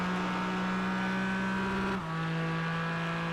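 Porsche GT4 race cars in iRacing at Interlagos drone along in a pack, a steady engine hum with a gear change partway through, moderately loud and without voices.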